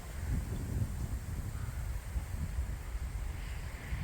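Outdoor wind buffets the microphone in a parking lot on a sunny day, a steady low rumbling roar with gusty swells that runs throughout without pause, no voices.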